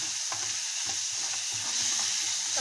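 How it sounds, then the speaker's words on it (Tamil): Tomatoes sauté with salt in a hot pan, a steady close sizzle with soft rhythmic scrapes of stirring throughout, no voices. "இப்போ தக்காளி கொஞ்சம் சீக்கிரம் நல்லா வதங்கிடும்"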